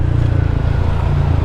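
A Honda ADV150 scooter fitted with a JBT exhaust pipe runs on the road, its engine giving a loud, steady, deep pulsing drone close up throughout.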